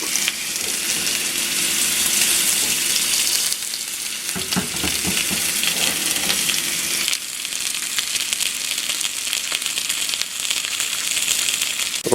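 Bacon-wrapped filet sizzles and crackles steadily in a hot pan, a loud dense frying hiss that runs the whole time with brief shifts in texture and no talk.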